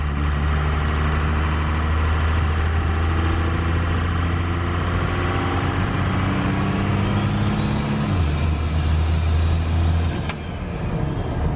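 A Cummins diesel P-pump truck engine running under quarter throttle, a loud, steady close drone with a deep low rumble that shifts in pitch partway through before easing slightly at the end.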